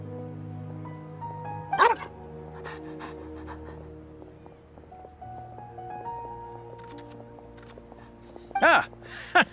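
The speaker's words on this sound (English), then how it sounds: "What a well-behaved doggy" A dog gives a few short barks and yips close by, two sharp bursts separated by quieter panting and whimpering, set against a soft tonal musical background.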